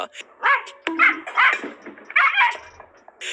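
Dog barking at a monkey; several sharp, loud barks and yips in quick bursts, close by, with a brief whimpering note between them.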